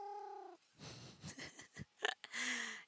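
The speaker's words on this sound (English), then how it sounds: "Definitely sounds more like a cooing owl." A pet owl cooing, a short tonal hoot followed by soft breathy wheezes and purring rasps, close and quiet, with a final sustained coo.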